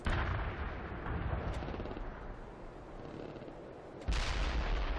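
Heavy artillery barrages in the video game World in Conflict, a dense continuous rumble of shell blasts and booming impacts, loud and close, with a fresh powerful blast hitting near the end.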